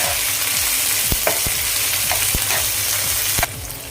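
Ginger-garlic paste sizzles loudly in a pan for a cauliflower egg bhurji, a dense continuous fry with repeated stirring clicks and scrapes close by, easing slightly near the end.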